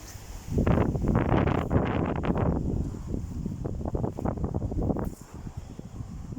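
Cool wind blows outdoors in the countryside, buffeting the microphone in loud rushing gusts that swell and ease across the stretch, with no voices heard.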